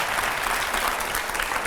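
Studio audience applause at a televised Hindi interview with Uma Bharti and five editors, a steady dense clatter of many hands, moderately loud and unbroken throughout with no voices over it.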